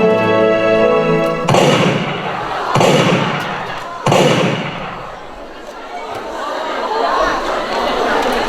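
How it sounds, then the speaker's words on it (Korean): Three sharp, loud gunshot bangs as a sound effect, each followed by a decaying echo, heard over crowd chatter. "이 총소리가 언제, 어디서 울려 퍼졌는지 아시겠나요?"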